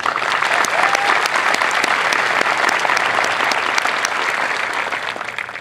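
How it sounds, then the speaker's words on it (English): An audience at an Air Force Basic Military Training parade applauds its nominees, a dense, even wash of clapping from many hands that holds steady and loud throughout. "How about a round of applause for our nominees?"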